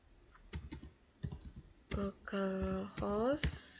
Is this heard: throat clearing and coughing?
no